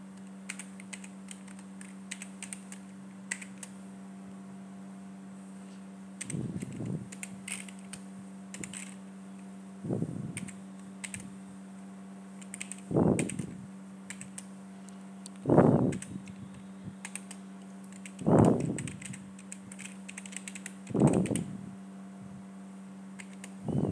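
Keys tapped on a computer keyboard while entering a spreadsheet formula, in short clustered bursts every few seconds, fairly close and quiet over a steady electrical hum.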